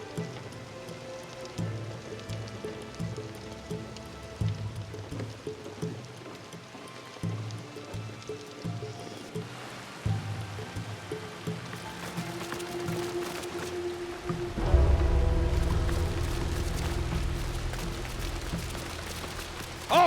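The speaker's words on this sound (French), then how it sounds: "La pluie peut masquer nos traces." Rain falls in a video game scene from Assassin's Creed Shadows, a soft continuous patter under a music score that swells and grows louder toward the end.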